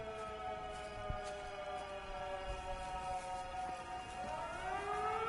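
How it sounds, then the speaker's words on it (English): In Everybody's Gone To The Rapture, a layered air-raid siren drones steadily, then near the end a second tone starts to rise over it, the whole sound building slightly louder with no talking. "I don't like the sirens that much"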